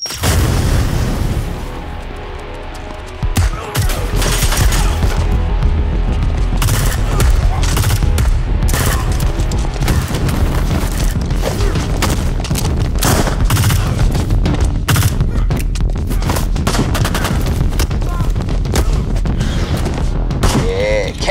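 Heavy gunfire and booming blasts from a live action trailer for the tactical shooter Tom Clancy's Ghost Recon Breakpoint, loud and dense throughout, with bursts and explosions layered over music and scattered voices.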